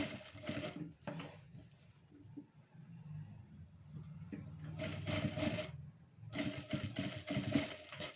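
Sewing machine stitching a patchwork piece made from a leftover saree border, running in short loud bursts of whirring separated by quieter pauses with faint handling sounds.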